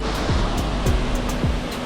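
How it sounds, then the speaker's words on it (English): Bomod-ok Falls roars close by as a loud, steady wash of falling water with no pauses, filling the whole moment. "this may be the most beautiful waterfall which I saw"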